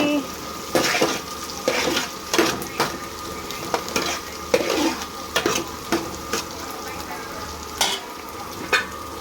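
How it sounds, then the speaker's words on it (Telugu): Onions frying in a pan for a festive chicken biryani meal, a soft continuous sizzle punctuated by repeated sharp scrapes and clinks of a spoon stirring against the pan. "ఇక్కడైతే ఆనియన్ అయితే వేగుతుంది"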